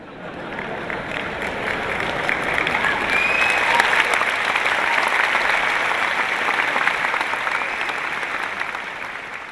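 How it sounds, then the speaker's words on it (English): Seminar audience applause swells into a long, dense, steady roar of many hands clapping, holding strong for several seconds before easing slightly at the end. "The sons are clapping"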